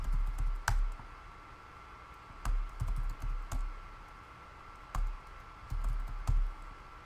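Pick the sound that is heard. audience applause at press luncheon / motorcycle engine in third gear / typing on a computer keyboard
typing on a computer keyboard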